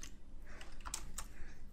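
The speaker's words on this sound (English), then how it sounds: "This is a bit of typing, isn't it?" Close, moderately loud keystrokes on a computer keyboard tap in an uneven rhythm with a few sharper clicks, and no speech.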